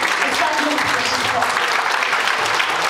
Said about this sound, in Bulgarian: Аплодисменти и споделище.